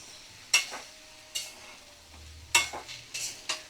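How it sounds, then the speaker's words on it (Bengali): A spoon stirs bottle gourd and shrimp curry in a pan over medium flame, giving several sharp scraping strokes over a faint, low sizzle. "তো দেখো আমি ভালো করে নাড়াচাড়া করে লাউ চিংড়ি মিশিয়ে নেব।"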